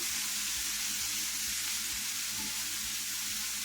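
Curry-seasoned chicken breast marinated in milk sears in a frying pan with a loud, steady, close sizzle that continues without a break, and no one speaks.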